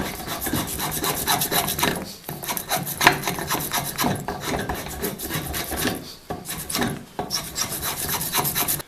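A wooden tool shaft being tapered by hand with a rasp, giving steady, continuous rhythmic rasping strokes, close and fairly loud, with only brief pauses between bursts of strokes.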